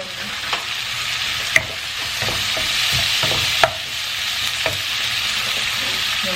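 Bacon sizzles steadily in a hot pan for several seconds, with a few sharp scrapes and taps as it is stirred and turned, close and continuous with no talking.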